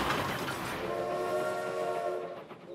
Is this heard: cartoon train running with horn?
yes